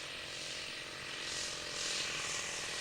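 A 40% scale radio-controlled Jungmeister aerobatic biplane flies with a loose muffler, its engine giving a steady, distant buzzing drone that swells slightly as it passes. There is no speech.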